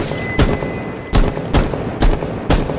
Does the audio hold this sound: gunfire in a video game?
yes